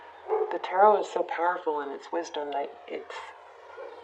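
Dogs bark and yip in the background of a room while someone talks steadily over them, the barks short and repeated across the stretch.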